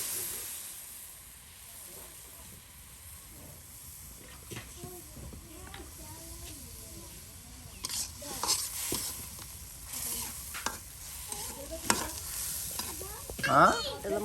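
Taki fish frying in a pan with spices, stirred repeatedly: a soft steady sizzle broken by scraping and clinking spatula strokes, fairly quiet and close.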